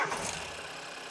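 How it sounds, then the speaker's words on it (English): A car engine idles steadily just after being restarted during ignition coil testing, a brief, faint, even hum. "So we'll start the engine back up"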